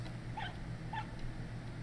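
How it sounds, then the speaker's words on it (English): A frightened puppy in the video game RiME gives two short, high yelping barks over a steady low ambient drone, quiet and somewhat distant. "That is a terrified bark."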